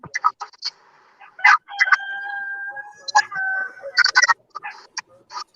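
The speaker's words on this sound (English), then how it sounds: "Big Red crows, and then Bob crows, and Junior crows, and then Big Red crows" Several homestead roosters crow in turn, one after another, loud and close with long drawn-out calls, with no one speaking over them.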